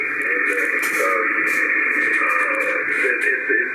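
FlexRadio 6600M receiver audio with noise filtering, EQ and a notch filter engaged: a steady band of filtered hiss and faint garbled signal, continuous and even in level throughout, with no clear voice standing out.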